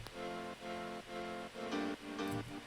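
A piano part from an electronic dance track remake plays alone, sounding as short, evenly spaced repeated chord stabs in a steady rhythm, soft and clean.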